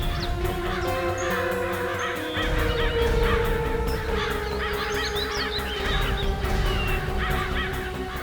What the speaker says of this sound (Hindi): बहुत सारे कौवे भी मंडरा रहे हैं।